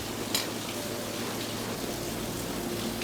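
Steady rain hisses softly and evenly throughout at a pork trotter restaurant, a continuous wash of drops with a faint low hum underneath.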